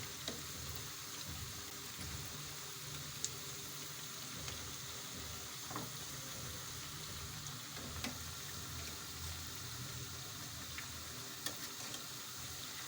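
Onion pakoras frying in hot oil, a steady soft sizzle and bubbling running throughout with a few faint clicks of stirring, close and fairly quiet.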